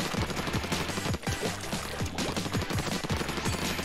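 Ink weapons firing in a Splatoon 2 Splatfest match, with rapid repeated splattering shots in a steady rhythm under loud, busy game music and effects.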